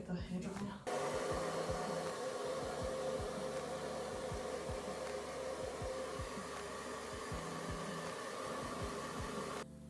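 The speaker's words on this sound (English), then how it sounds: "I'm now going to blow dry my hair" A hair dryer blows steadily for about nine seconds while someone blow-dries their hair, a loud constant airy roar that starts abruptly with low thumps and handling bumps underneath.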